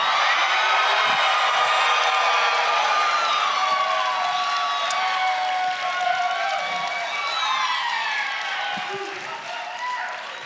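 A live audience at a comedy podcast taping cheers and claps in a sustained wash that slowly fades, with voices talking over it.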